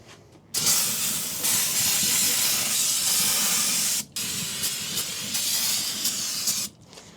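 Brake cleaner sprays from an aerosol can while a hydraulic pump on a dump trailer is being replaced, a loud steady hiss in two long bursts separated by a brief pause, with no voices.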